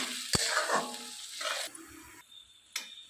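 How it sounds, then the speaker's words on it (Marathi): Soft sizzling of onion frying in tempering oil, with a few sharp clicks and scrapes of a spoon stirring the pan close by. "कांदा चांगला भाजत आहे फोडणीमध्ये"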